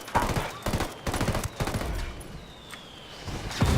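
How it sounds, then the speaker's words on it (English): Mortar rounds strike in Ghost Recon Wildlands as a run of heavy, close booming impacts in quick succession, then the blasts fade into a rumbling tail with a thinner whistle-like tone. "I called Packatari for some mortar fire."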